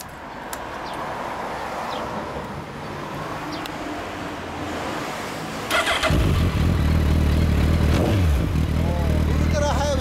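A 2015 Suzuki Hayabusa GSX1300R with a Yoshimura exhaust idles, then fires up about six seconds in and settles into a loud, deep, steady idle, with people talking nearby.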